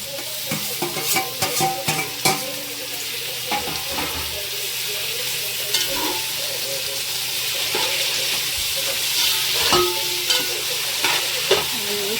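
Tomatoes frying in biryani masala with browned onion, a loud continuous sizzle broken by clinks and scrapes of stirring, busiest at the start and calmer later.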